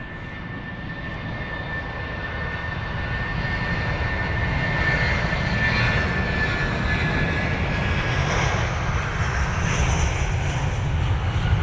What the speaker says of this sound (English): we've got BA 994 off to Berlin, the Airbus A319 with the Reg Golf Delta Bravo Charlie Bravo, a 19-year-old